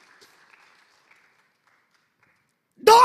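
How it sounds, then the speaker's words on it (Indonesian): Church congregation bursting into loud applause near the end, following a quiet stretch with faint background voices. "Kasih tepuk tangan yang meriah bagi Allah kita"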